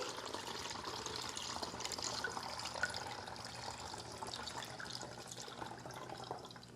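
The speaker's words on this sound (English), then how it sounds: "I've got a little spout here, and I'm just going to pour it in there." Homemade citrus vinegar cleaner pours through a small spout into a container, a steady close-up stream of splashing liquid that runs the whole time with no one talking.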